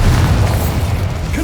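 A heavy, low Bombarda spell explosion in Hogwarts Legacy booms and rumbles throughout, dense and loud with no talking over it.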